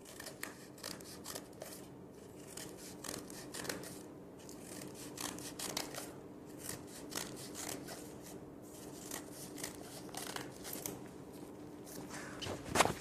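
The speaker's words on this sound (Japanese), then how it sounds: "こういうハサミを使ってちょっと切った、こういうふうに適当に切っていったんです。" Scissors snip repeatedly through paper during a street magic trick, a steady run of close, crisp cuts with a louder snip at the end and no talking.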